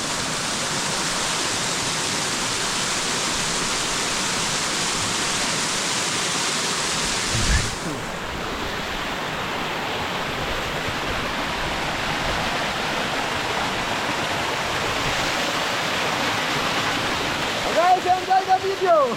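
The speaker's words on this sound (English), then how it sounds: "Just check this waterfall." A waterfall near a village pours with a loud, continuous rushing roar that stays broad and steady throughout, briefly shifting in tone partway through, with a voice faintly audible near the end.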